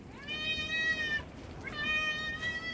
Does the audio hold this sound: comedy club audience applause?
no